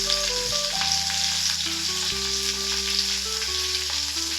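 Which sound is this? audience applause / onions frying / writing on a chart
onions frying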